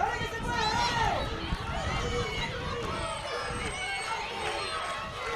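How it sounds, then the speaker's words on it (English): Crowd noise at a women's over-40 Masters World Cup field hockey final between Australia and Argentina, a steady loud roar and cheering swelling early then holding under continuous commentary. "The crowd comes alive once again."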